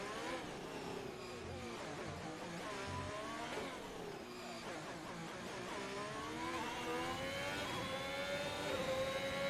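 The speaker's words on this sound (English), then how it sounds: "The Ferrari is currently going through the hairpin at the moment." A Ferrari race car in a racing video game at a Monaco night Grand Prix drops to lower revs through the hairpin, then climbs again in rising whining gear sweeps, with faint engine noise from other cars behind it.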